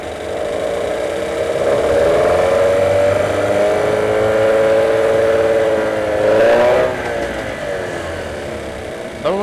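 A Yamaha 6C outboard motor runs loudly and close, its engine pitch rising and wavering as the throttle is opened, then dipping briefly before settling back into a steady drone.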